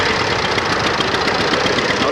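John Deere tractor engine pulling in at an antique power association tractor show and parade, a steady close knocking rumble with rapid even pulses, loud throughout with crowd and announcer noise mixed in.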